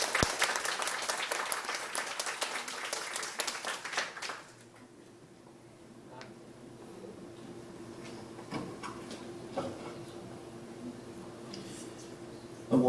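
Applause from an audience at a corporate autism talent-recruitment launch event, welcoming the chairman: a loud burst of clapping that ends after about four seconds, followed by quiet room tone with faint thumps and shuffling.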